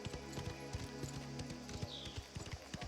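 Steady clip-clop of horse hooves at a walking pace in the video game Mafia, close and fairly loud, with a low background drone and no one speaking.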